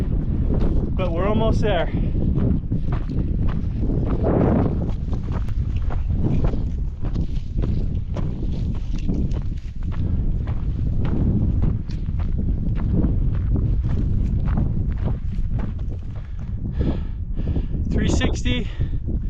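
Gusty wind buffets the microphone while hiking up a mountain trail toward Grizzly Peak through Perry Canyon, roaring steadily under crunching footsteps and a hiker's brief spoken remark.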